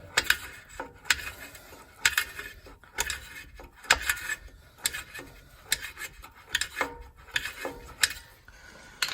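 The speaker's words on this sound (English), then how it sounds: "we're just gonna rotate it down a few turns, and this is gonna be releasing our drum brake on the inside" Star-wheel adjuster cog inside the rear drum brake of a RAM truck being turned by hand tool, a series of close rasping, ratcheting clicks repeating in short bursts, with no talking.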